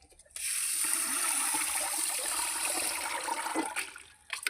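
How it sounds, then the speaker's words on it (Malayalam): Rambutan fruit being washed in a basin of water, a steady close splashing and sloshing that runs almost without a break, easing slightly near the end. "നമ്മളിത് വെള്ളത്തിലിട്ട് ഇങ്ങനെ ഒന്ന് വാഷ് ചെയ്തെടുക്കണം"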